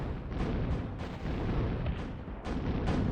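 Bombing-run explosions in the strategy game Zero-K rumble in a dense, continuous barrage of booms and blasts, loud and close, with no talk over them.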